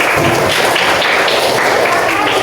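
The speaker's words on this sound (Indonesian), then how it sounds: "tepuk tangan" Children in an Indonesian classroom clap together at the teacher's request. The loud, close, rhythmic applause comes in quick regular beats that continue steadily for a couple of seconds.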